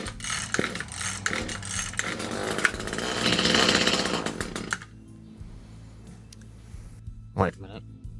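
An Echo HC150 hedge trimmer with a newly installed carburetor is pull-started. Its small two-stroke engine catches and runs loudly for a few seconds, then drops away. Speech is heard around the engine noise.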